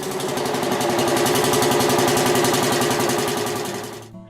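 A vintage Lanz Bulldog tractor engine runs steadily and loudly up close, with a dense, rapid, even mechanical pulse that holds strong before fading toward the end.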